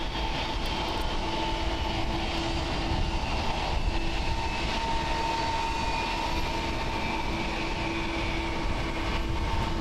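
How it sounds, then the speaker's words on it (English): An All Nippon Airways Boeing 777-300 arriving at Haneda Airport, a steady broad jet engine roar with a faint droning tone, heard from an observation deck at a moderate distance. "This is All Nippon Airways flying 50A coming in from CTS."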